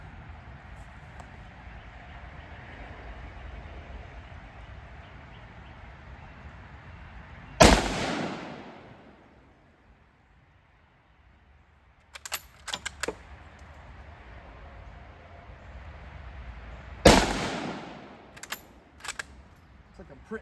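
Mannlicher rifle fired at a paper target on an outdoor range, two loud sharp reports with ringing decay several seconds apart, plus a brief clatter of metallic clicks between them over steady background hiss.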